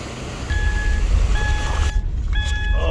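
A car's seatbelt warning chime beeps in three short bursts of a steady tone over the low rumble of the running vehicle.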